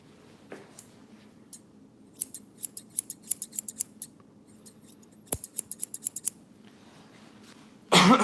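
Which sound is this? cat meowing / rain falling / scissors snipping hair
scissors snipping hair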